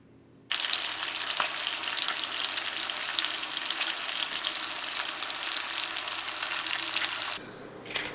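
Thick homemade bacon slices, cut from cured and smoked pork belly, fry in a pan with a steady, dense crackling sizzle that starts abruptly and runs unbroken for several seconds before cutting off near the end.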